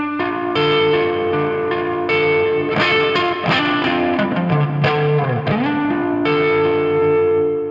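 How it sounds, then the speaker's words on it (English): Electric guitar, a Fender Stratocaster through a NUX overdrive pedal, plays sustained chords and bending single notes, loud and gritty with a slight chorus shimmer and echo, no voices. "as I add the NUX pedal, you can hear it go into overdrive."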